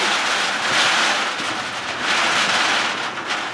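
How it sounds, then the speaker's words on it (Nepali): Heavy rain pours down in a steady, dense broadband hiss that swells and eases slightly, loud and close, with no talking. "पानी कस्तो हालिरहेछ है दाइ"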